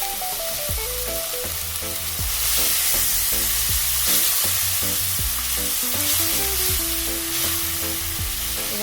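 Turmeric and spices sizzle in a pan with a small splash of water, a steady close frying hiss that swells louder partway through, with light stirring and faint background music.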